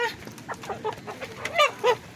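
A Rhode Island Red rooster clucks in a quick series of short, nasal calls over about two seconds, close and fairly loud against quiet farmyard background.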